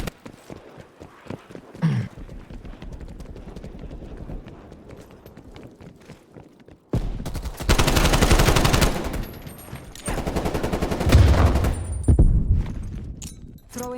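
Gunfire in a video game comes in dense bursts of sharp, rapid shots in the second half, preceded by quieter clattering, clicking sounds.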